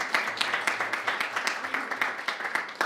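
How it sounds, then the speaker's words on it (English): Applause for an honoree at a board of education meeting, a steady wash of many hands clapping that fills the room throughout, with voices faintly mixed in underneath. "Let's give her another round of applause."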